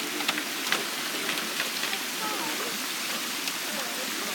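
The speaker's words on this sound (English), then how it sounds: "This waterfall." Steady rushing water from a waterfall at a hidden temple near a lake in Chiang Mai, a constant soft hiss with faint scattered splashes and a few quiet voices in the background.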